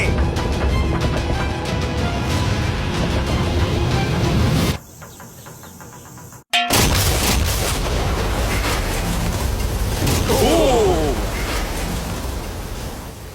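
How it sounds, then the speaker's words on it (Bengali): A huge sea bomb explosion blows up a yacht as a loud, broad roaring blast that cuts out for a moment, then returns with a sharp burst and a rumbling wash that slowly fades. "এই বিস্ফোরণটা কিন্তু বিশাল হতে চলেছে"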